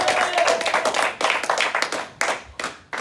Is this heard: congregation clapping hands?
yes